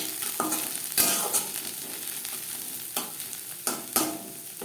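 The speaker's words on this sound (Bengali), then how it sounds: "পেঁয়াজ ভাজা হয়ে এসছে, দিয়ে দেব স্বাদ অনুযায়ী কাঁচা লঙ্কা কুচি।" Sliced onions with chopped green chillies being stirred and fried in a pan, a soft steady sizzle broken by several sharp scraping clatters of a spatula against the metal.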